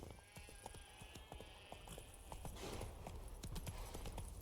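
Horse hooves clip-clop at a steady riding pace in The Witcher 3 video game, a close, regular rhythm of sharp strikes with faint background ambience and no talk over it.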